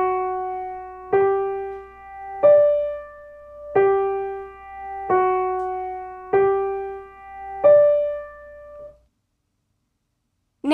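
Six single piano notes struck one after another at an even, unhurried pace, each ringing out and fading before the next, then silence.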